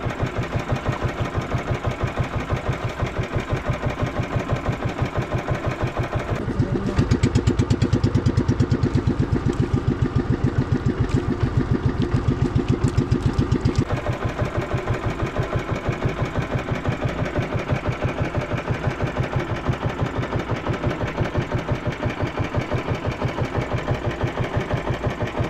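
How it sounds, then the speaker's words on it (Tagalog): A small fishing boat's engine idles with a steady mechanical chugging, swelling into a louder, rougher run midway before settling back to its even idle, close and continuous. "saka doon naman na sumpong yung makina ng isang bangka"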